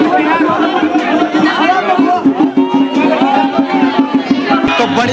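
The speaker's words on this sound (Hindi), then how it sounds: "इस समय भीड़ भाड़ कुछ ज्यादा ही भक्तजनों की अब चौक की तरफ लग चुकी है" A dense crowd of devotees at the Maa Nanda festival in Uttarakhand fills the space with close, continuous chatter and babble, many voices overlapping loudly with someone speaking over them.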